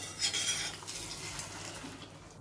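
Beaten egg poured into an oiled frying pan over medium gas, giving a soft, close sizzle and scraping hiss with light utensil clinks, quiet and steady with no voice over it.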